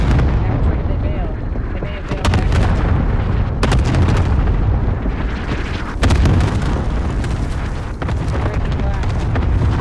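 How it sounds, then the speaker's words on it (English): Cluster strike in Call of Duty Warzone, a rolling barrage of heavy explosions and gunfire pounding almost continuously, loud and rumbling with sharp cracks on top, with voices in between. "cluster strike away"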